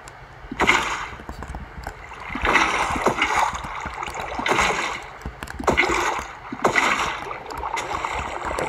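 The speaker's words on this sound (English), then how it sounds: "Now all I need to do is lay out the water." In the video game Minecraft, water is placed while building an iron farm, giving repeated splashing, flowing bursts that rise and fall every second or so, loud and close with no talk.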